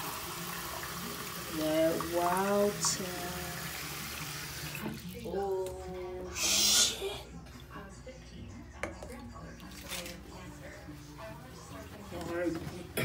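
Hotel coffee maker running water in a splashing, faucet-like stream, loud and close, while someone talks excitedly over it and a brief hiss bursts out midway.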